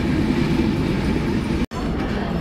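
A train runs on rails near Parbatipur Junction in Dinajpur, Bangladesh, with a continuous loud rumble and rattle up close and a brief dropout partway through.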